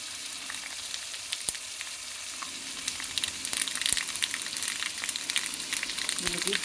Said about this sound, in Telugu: ఇప్పుడు తాళింపు వేసేస్తున్నాను